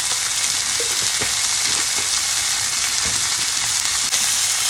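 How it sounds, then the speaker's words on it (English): Sautéed onion sizzles loudly and steadily in a pan on the stove beside a seared ribeye, a constant close frying hiss with faint stirring clicks. "I'm going to add a little bit of salt to the sauteed onion."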